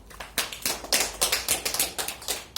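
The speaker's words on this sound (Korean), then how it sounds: "하나님께 박수." A church congregation applauds in a rapid, uneven patter of claps that rises and falls in short bursts, fairly close and with no voices over it.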